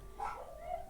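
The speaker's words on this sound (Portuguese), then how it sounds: "Passa um cachorro na rua, eles começam a uivar" Dogs bark and yip at a passing dog out on the street, a couple of short calls rising over steady background noise, fairly faint and distant.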